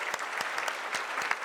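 Audience at an annual meeting and village awards applauding, brisk scattered claps from a modest crowd, close and even across the brief moment.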